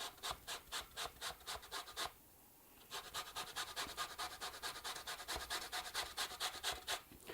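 Half a lemon is rubbed against a zester for garlic herb butter: quick, even rasping strokes in a steady rhythm, close by, with one short pause partway through before the scraping resumes.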